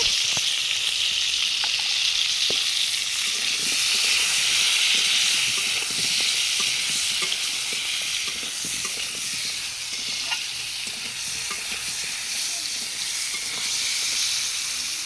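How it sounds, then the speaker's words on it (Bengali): Pointed gourd (potol) fries in hot oil with a little salt and turmeric, a continuous loud hissing sizzle held close throughout, with faint occasional utensil taps. "পটলগুলো এর মধ্যে দিয়ে ভেজে নেব।"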